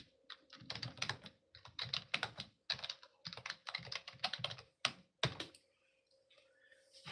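Fingers type on a computer keyboard in quick, close bursts of clicking keystrokes separated by short pauses, quiet and alone.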